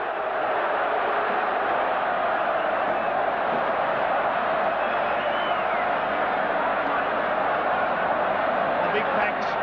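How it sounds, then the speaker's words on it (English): Stadium crowd at a 1984 State of Origin rugby league match between Queensland and New South Wales, roaring after a knock-on ruling, a constant loud wash of cheering that runs unbroken throughout. "Listen to the crowd."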